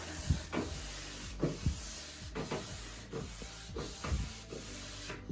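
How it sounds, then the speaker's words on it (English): A blue shop cloth rubbing stain and finishing oil over wood furniture in repeated steady strokes, each swipe a close, soft, scratchy rasp in an even back-and-forth rhythm. "I'm using Fusion Mineral Paint Stain and Finishing Oil in the natural with a blue shop cloth, and I'm just rubbing it on."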